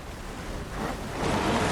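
Water waves in the video game Alan Wake 2 wash in as a brief, broad rushing surge that swells louder toward the end, with no voices.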